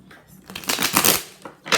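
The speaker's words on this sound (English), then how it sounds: "Let me do 3 shuffles." A deck of cards shuffled by hand during a tarot-style reading, a brief close rustling riffle with short snapping bursts, heard alone without talk.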